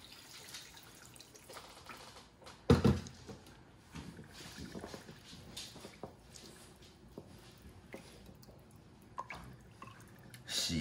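Chicken legs are rinsed in water to wash off blood before cooking beggar's chicken, making soft sloshing, dripping and squishing handling sounds, with one louder splash or knock partway through, all fairly quiet and close.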